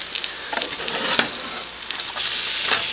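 Lentil walnut burger patties sizzle steadily in a hot pan, a continuous bright hiss with occasional louder crackles and spatters, close and alone with no talking.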